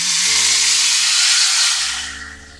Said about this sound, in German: jetzt braten wir das Fleisch von allen Seiten schön an.